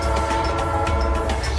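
A train at a station in Melbourne, Australia, with a steady low rumble of rolling stock and wheel noise close by, continuous and fairly loud, with no voices.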